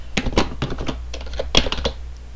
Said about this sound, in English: all I got to do is type in my name